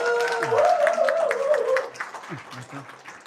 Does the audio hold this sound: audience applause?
yes